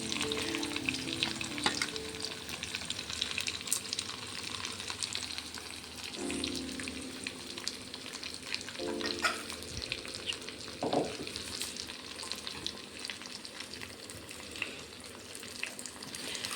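Chili powder fries in a pan over a low flame, making a continuous soft sizzle with a few stirring scrapes over a quiet, steady background.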